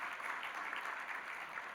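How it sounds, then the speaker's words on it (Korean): A church congregation applauds during a Korean worship service, producing dense, even clapping that holds steady throughout at a moderate, somewhat distant level. "우리 큰 박수로 축하 격려하겠습니다."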